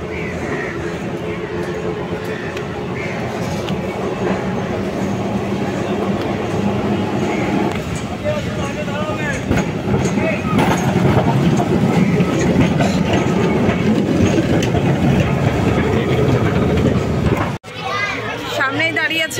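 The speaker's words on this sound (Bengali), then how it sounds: "এখন ট্রাম আসার অপেক্ষা করছি, তো চলো ট্রাম আসুক" A Kolkata tram pulls in along the Esplanade tram line with steady rolling rail rumble and wheel clatter, fairly loud and continuous, mixed with street noise and children's voices nearby, with a brief sharp break near the end.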